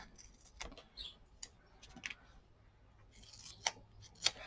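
Scissors snipping strips of foam tape for a Christmas scrapbooking page, several quiet, sharp, irregular cuts close by in a hushed room.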